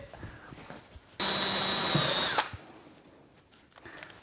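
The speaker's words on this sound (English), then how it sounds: "These tapered step drill bits make drilling in plastic so simple and they don't wander" A power drill with a tapered step bit whines loudly for just over a second, cutting through plastic, then stops, leaving quiet room noise.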